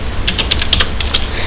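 Rapid bursts of typing on a computer keyboard, about a dozen crisp key clicks in an uneven rhythm, close and fairly loud over a low background hum, with no voices.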